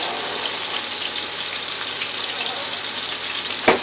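Butterfly shrimp frying in hot oil, a steady close sizzle and crackle running throughout, with one brief sharper pop near the end.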